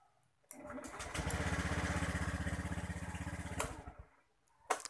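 A Honda Beat ESP scooter's electric starter cranks the engine in a steady rapid chug of about three seconds, fairly loud and close, with no voices over it. The machine has a starting problem even though its battery is new.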